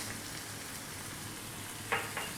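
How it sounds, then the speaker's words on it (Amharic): Beef and onions frying in a pan for Ethiopian beef pasta al forno, a quiet steady sizzle with a couple of brief louder clinks or scrapes near the end. "ስጋውና ሽንኩርቱ እየተጠበሰ እዚህ ጋር ደርሰናል"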